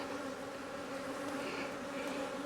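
Honey bees hum in a dense, steady drone from an open beehive during a mite treatment, close and continuous with no talking.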